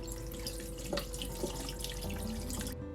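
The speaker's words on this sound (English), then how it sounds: "rinse with water to make sure all the residues of fat and dead skin are removed" Water runs steadily from a tap with soft splashing and occasional drips as a chicken is rinsed beneath it, quiet and close.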